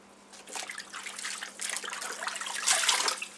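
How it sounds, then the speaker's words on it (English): Running water splashes and trickles steadily, growing louder toward the end, as turnip greens are rinsed under a faucet in a sink. "washing the greens. So we have to wash everything."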